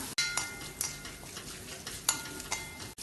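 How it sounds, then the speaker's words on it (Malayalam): Onions sautéing with turmeric and a pinch of asafoetida for kanda poha, stirred with a utensil that scrapes the pan in several distinct strokes over a steady close sizzle. "ഉള്ളി വാടി തുടങ്ങുമ്പം ഇതിലേക്ക് 1/2 ടീസ്പൂൺ മഞ്ഞൾപ്പൊടിയും 1 നുള്ളു കായപ്പൊടിയും ചേർത്ത് ഇളക്കി വഴറ്റാം"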